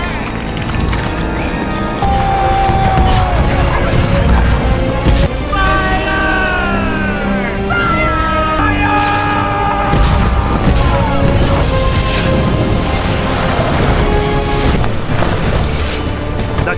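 Cannon fire during a film ship battle against the Flying Dutchman above a giant whirlpool, deep booms and crashes under a constant wall of score, wind and clashing noise, with voices talking over it.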